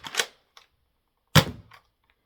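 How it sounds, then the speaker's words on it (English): A Nerf blaster fires two darts, each a sharp close pop followed by a short rattling tail, the shots about a second apart with near silence around them. "That shot 2 darts, and a lot harder, as you probably heard."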